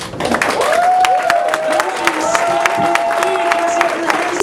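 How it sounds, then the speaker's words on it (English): An audience at a poetry slam claps in a dense, continuous burst of applause with a few cheers, steady for several seconds. "clap your hands as if they're on fire"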